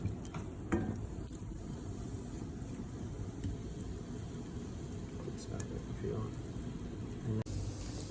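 Garlic and ginger sizzle in a pan, a steady close frying crackle with a few clinks from stirring.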